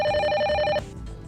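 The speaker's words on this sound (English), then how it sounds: "Try to pick up the phone quickly." A single ring burst from a telephone in the video game The Silver Case, a bright electronic trill lasting under a second before cutting off abruptly, leaving faint background hum.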